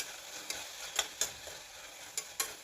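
Green chili and coriander masala being stirred into tomato and onion frying in a pan for green khichdi, with a steady soft sizzle broken by several sharp scraping stir strokes close by.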